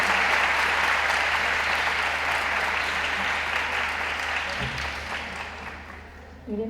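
Sustained applause from the audience at an Urdu mushaira poetry reading, a dense, even wash of clapping that slowly fades toward the end, no talk over it.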